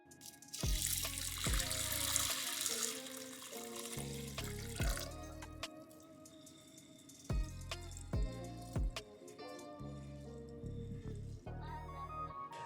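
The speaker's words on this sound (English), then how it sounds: "Now moving on to our green lentils, we're going to be using a half a cup's worth. Be sure to rinse them well." Running tap water splashes steadily over half a cup of green lentils in a kitchen sink, with the flow rising and dropping as the lentils are swished, near and moderately loud with no talk.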